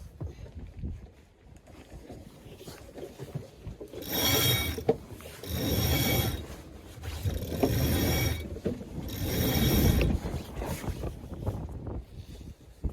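Sailboat rigging during a jibe, with pulleys and ratchets clicking and whirring in several loud bursts over a background of wind and water.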